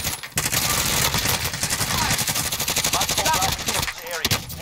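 Gunfire in Call of Duty Warzone, including a sniper rifle shot, rings out among dense, loud bursts of shooting and clatter, with excited voices talking over the action.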